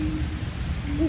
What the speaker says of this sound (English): I used to hear great horned owls when I was camping all the time